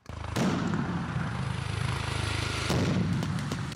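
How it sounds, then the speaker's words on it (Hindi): Rapid gunfire from soldiers on armored vehicles during a military exercise, a sustained loud rattling barrage that starts abruptly and continues densely throughout, with a renewed burst near the end and no talking. "इशारा मिलते ही उन्होंने ताबड़तोड़ गोलियां बरसानी शुरू कर दी"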